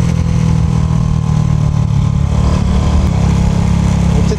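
A heavily tuned Honda Super Cub motorcycle engine while riding, a loud, steady mid-pitched drone with buzzing low rumble that holds constant throughout and no voices.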